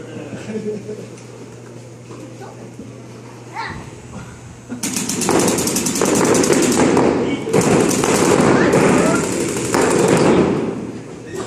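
Rapid automatic gunfire in a shooter video game breaks out after a quiet start and continues as dense, loud bursts, with players talking over it.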